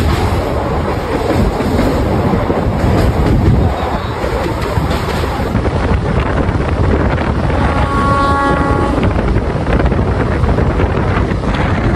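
A Kolkata to Puri special passenger train moves at speed, its steady rumble mixing with wind buffeting and faint rail noise, with a brief whining tone midway and no talking.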